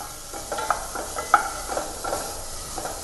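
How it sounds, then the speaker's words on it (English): Vegetables sautéing with a pinch of salt in a pan for Italian minestrone soup, a soft steady sizzle with light stirring scrapes and a few brief louder clinks. "Add a pinch of salt and continue to saute this."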